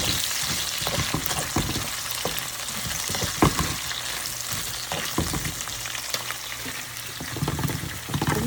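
Onions fry in a pan with a steady close crackling sizzle, dotted with regular stirring scrapes and light spatula knocks, fairly loud and continuous, no voices.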